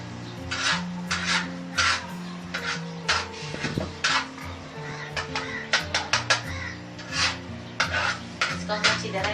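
Egg is stirred into fried tomatoes in a pan with a steady rhythm of scraping strokes, utensil scrapes and knocks against the metal repeating for about nine seconds, with a faint sizzle underneath.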